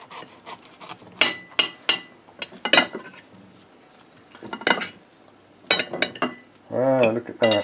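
Metal cutlery scrapes and clinks against a plate while cutting an air-fried keto Scotch egg in half, giving sharp irregular ticks and scraping strokes close by. A voice speaks briefly near the end.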